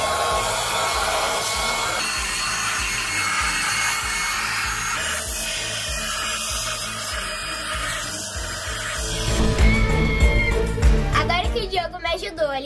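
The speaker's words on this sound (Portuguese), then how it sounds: "terminar de fazer os acabamentos aqui com esse aspirador potente" A powerful vacuum cleaner cleaning inside a barbecue, a loud continuous whine that changes pitch as the nozzle moves, then grows rougher and rattles near the end.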